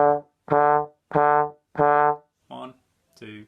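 Trombone playing crotchets in fourth slide position, just past the bell: four even, close, separate notes, then two weaker, shorter tones at the end.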